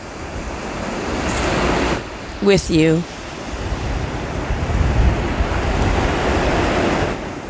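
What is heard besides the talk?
ocean waves on a beach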